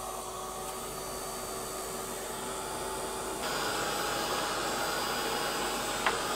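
A dryer runs steadily while drying a piece of craft work, a constant airy whir at moderate level that grows slightly louder partway through, with a faint click near the end.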